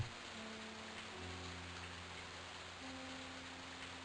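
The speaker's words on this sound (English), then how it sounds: "it's still raining" Rain falls in The Elder Scrolls II: Daggerfall, a soft, steady hiss of in-game rainfall, faint and constant, with low sustained tones humming underneath.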